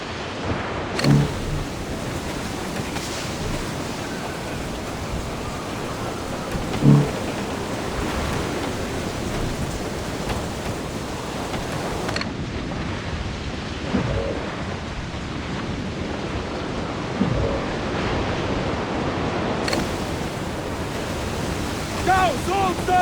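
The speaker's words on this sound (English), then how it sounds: "Storm, Captain! Looks bad!" Stormy sea in the pirate game Assassin's Creed IV: Black Flag, with steady rain hiss, rolling surf and occasional thunder bumps, broken by brief dips in the roar.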